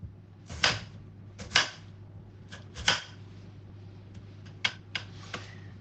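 A knife chops through food on a cutting board in a kitchen, several sharp, separate thuds at an uneven pace, close and fairly quiet over a steady low hum.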